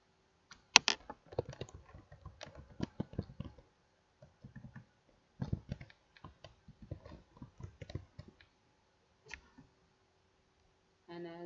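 Someone types on a computer keyboard while making a whiteboard animation, with clusters of crisp close keystrokes and clicks separated by short pauses and a longer gap midway.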